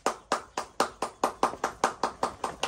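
Hand clapping, eleven or so loud, evenly spaced claps in a brisk steady rhythm, close by with no talk over them.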